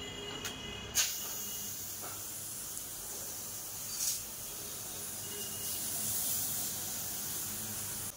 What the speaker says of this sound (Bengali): এই মাছের পুরো তেলটা আমি কড়াইতে দিয়ে দিব